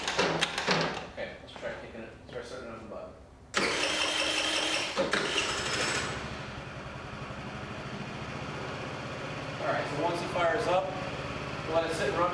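Engine of a machine undergoing pre-delivery inspection, push-button started after fuel is added: a brief clatter, then a loud catch and steady running that settles into an even idle, with people talking nearby.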